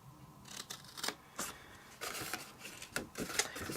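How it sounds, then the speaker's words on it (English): Scissors snip along a score line in paper or card for handmade tags, several short crisp cuts in quick irregular succession, close and quiet. "I'm just going to grab my scissors and then cut onto the first score line"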